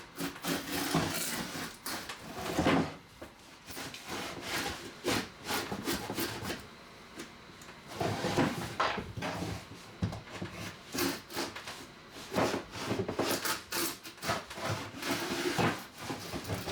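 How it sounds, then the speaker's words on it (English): Hand plane, a KM-17 router plane, shaving away layers of plywood with repeated scraping, rasping strokes in quick bursts, close and fairly loud, with no talking. "this is taking layers off much faster and cleaner than the router, and it's effortless."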